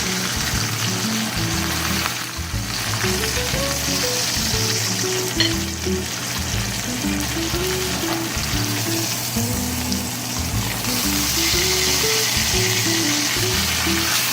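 Ribeye steaks sizzle in a cast iron pan, a loud, continuous frying hiss that holds steady across the whole stretch, alone without talk.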